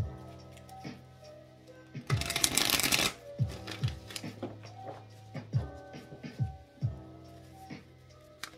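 Tarot cards are shuffled in a loud riffling burst that lasts about a second, followed by a series of crisp taps and slaps as the cards are handled and laid down.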